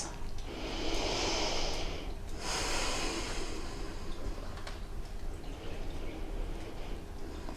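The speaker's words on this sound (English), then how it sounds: "Deep breaths." Deep breathing during a vinyasa yoga class: two long, loud breaths close to the listener, each lasting about a second and a half, followed by quieter, steadier breathing over a soft background hum.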